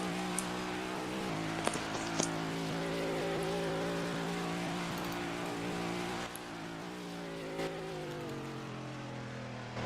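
Race cars crossing the finish line in a racing game, a continuous droning engine roar with shifting pitch and faint passing whooshes, steady and fairly loud throughout.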